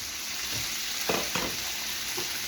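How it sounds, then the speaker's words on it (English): Bell pepper and onion hit a hot flat top griddle with a steady moderate sizzle, broken by a couple of brief scraping or stirring bursts near the middle. "I'll add our pepper and our onion."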